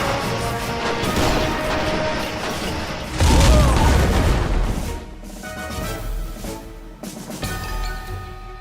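Minecraft explosions of shaped charges blasting bunker turrets, a dense crashing barrage with a heavier boom near the middle, continuous and loud, with crackling debris throughout.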